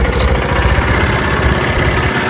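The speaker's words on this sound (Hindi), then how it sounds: "तो गाइस अभी बाइक को कर देते हैं स्टार्ट और फिर निकल लेते हैं।" A motorcycle engine runs at a steady low idle, close and continuous, with a dense rumbling drone throughout and no voices.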